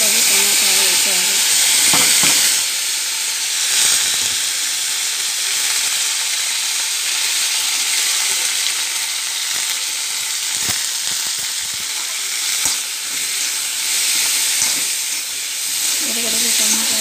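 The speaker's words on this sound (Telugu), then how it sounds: "పోపు దినుసులు చిటపడిన తర్వాత ఉడకబడి టమాటాలు వేసేయాలి" Tempering spices and boiled tomatoes sizzle and hiss steadily in hot oil for a drumstick flower curry, with a constant loud frying roar and brief stirring clatters.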